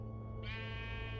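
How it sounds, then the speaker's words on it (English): A Minecraft Story Mode sheep, freshly hatched from a spawn egg, gives a single short bleat, faint and alone over a low background hum. "A sheep will appear."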